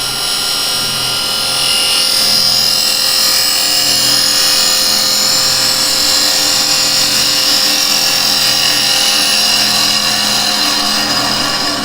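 A wood lathe spins as a chisel hollows out a threaded wooden lid, a loud steady scraping hiss of the cut over the motor's constant hum, continuous and close with no talking.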